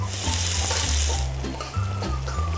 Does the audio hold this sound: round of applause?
no